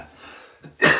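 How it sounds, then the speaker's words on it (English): A man in a casual livestream gives a short cough and clears his throat, one soft rasp followed by a louder burst at the end, close to the microphone. "Let me cough for a second."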